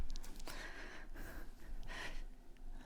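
Audible breaths taken during a hatha yoga session, close and fairly quiet, with a few airy inhales and exhales, some with a slight nasal, snort-like edge.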